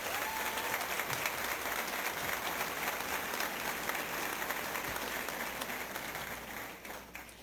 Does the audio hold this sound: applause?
yes